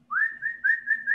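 A person whistles a short, clear tonal phrase of several connected notes, close and alone.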